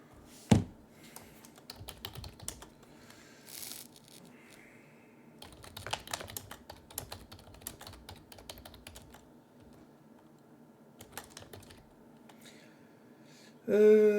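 Computer keyboard typing at close range, irregular bursts of clicky keystrokes with short pauses, a sharp louder tap near the start and a brief loud noise at the end.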